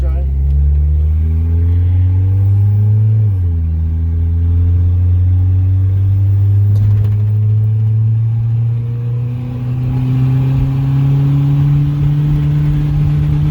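A turbocharged Honda Civic fitted with a budget turbo kit drives steadily, its engine droning loudly and evenly, dipping once briefly before its pitch climbs slowly through a long pull.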